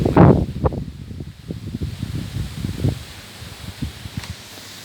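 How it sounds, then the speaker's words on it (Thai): A strong east wind gusts through coconut palm fronds, with a loud rustle at first and then continuous, uneven flapping and crackling of leaves that slowly eases. "มีลมตะวันออกมาอย่างแรงอีกครั้ง"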